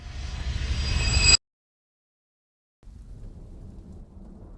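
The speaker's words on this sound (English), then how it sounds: "The storm had been building all day." A thunderstorm with heavy rain and deep thunder builds into a loud, steady roar, then cuts off abruptly into silence. A quieter, low rumbling wash of rain returns after the gap.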